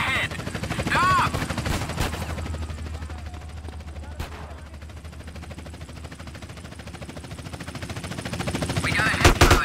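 Video game shootout with bursts of automatic gunfire and sharp shots over a steady low engine-like rumble, loud and close throughout, with brief game voices.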